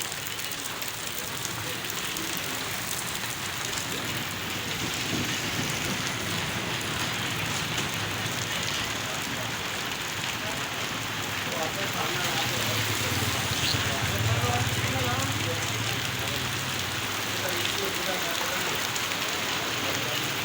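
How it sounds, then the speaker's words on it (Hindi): Heavy rain pours over a residential colony in a dense, continuous hiss that holds steady throughout, with a faint low rumble rising briefly near the end. "ज़बरदस्त बारिश है।"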